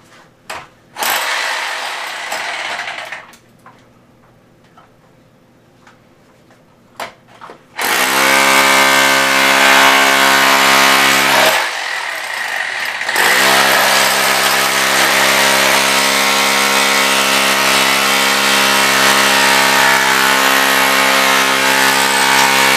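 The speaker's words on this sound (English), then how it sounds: "I'm trying to hammer my way through the wall now" Loud, steady rattling hammer-drill pounding through a wall with brief pauses, a sustained harsh mechanical pounding that stops and restarts.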